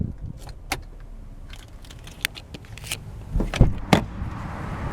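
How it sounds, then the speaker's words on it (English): A 2014 Hyundai Accent SE hatchback engine being switched off, its low idle rumble giving way to a couple of sharp key and ignition clicks near the end, recorded close up with no talking. "let's go ahead and turn off the engine"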